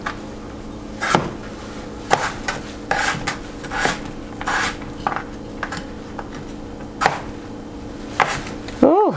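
A knife chops potatoes for frying on a cutting board, with a series of irregular, close, crisp thuds and scrapes over about nine seconds and no talking.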